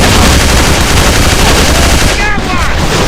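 An MP40 submachine gun firing in the shooter game AVA, a rapid sustained burst of automatic fire, loud and close, continuous through the clip with a brief dip near the end.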